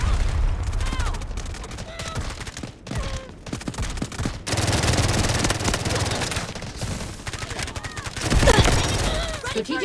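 Rapid automatic gunfire and bursts of shots from the mobile shooter game Delta Force Mobile, dense and loud throughout, with game voices calling out over the battle noise.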